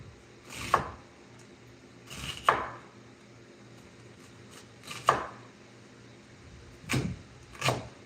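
Onions are chopped on a board with a knife, giving five separate chops at irregular intervals over a quiet background, the last two coming close together.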